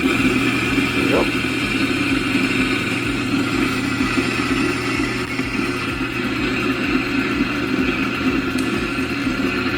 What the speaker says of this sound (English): I love this grinder, by the way. This is the Specialita.